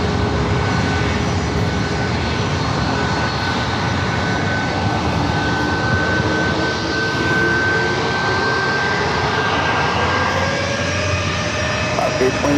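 A plane takes off from San Diego airport on runway 27 on a hot day, its engine roar loud, broad and steady for the whole stretch, with a voice talking faintly underneath.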